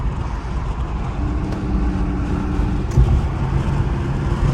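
An Infiniti Q50S with a muffler-delete exhaust drives through rush-hour traffic, a steady loud low rumble and drone from inside the cabin, swelling slightly near the end, with no talking.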